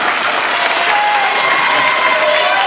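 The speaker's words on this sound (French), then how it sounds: "Applaudissez pour vous." An audience at a school cultural day applauds, dense continuous clapping that fills the whole stretch, close and loud with no break.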